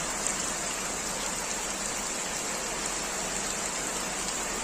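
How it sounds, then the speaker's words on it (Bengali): Heavy rain falling in Feni, Bangladesh, a dense, even hiss that holds steady from start to finish with no voices. "এখন প্রচুর বৃষ্টি হচ্ছে"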